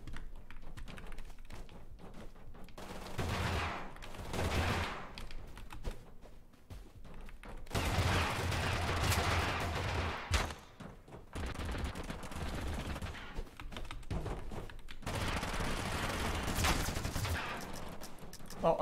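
Gunfire in Totally Accurate Battlegrounds comes in dense sustained bursts, with short gaps and changing loudness, moderately near, over a steady background din and keyboard-like tapping.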